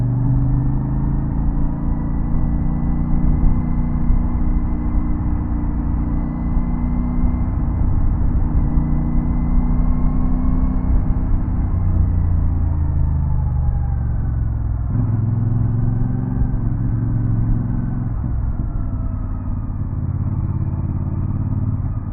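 A steady low engine rumble from a motorcycle crawling through car traffic on the elevated NLEX Skyway, a continuous drone with gentle pitch shifts and no voices.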